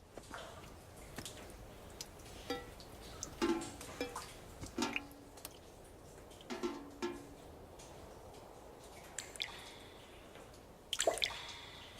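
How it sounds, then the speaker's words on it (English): Water droplets fall onto objects and into puddles after rain, a faint, irregular scatter of soft drips and ticks spaced a second or so apart over quiet background, with a brief cluster near the end. "The falling water droplets sounded like any old water droplets, falling onto objects and into puddles"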